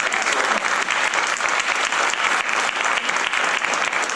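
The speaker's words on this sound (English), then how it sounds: "a big round of applause for Chloe" A science festival audience claps loudly and steadily, a thick wash of applause that runs unbroken from start to finish with no talking.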